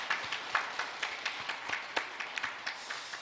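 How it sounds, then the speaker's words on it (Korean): A church congregation claps on cue during a Sunday service, sparse, fairly quiet hand claps in an uneven rhythm, with no voices over them. "박수 한번 크게 치세요."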